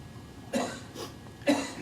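Two sharp coughs from a lecturer, about a second apart, close and clear against quiet room tone.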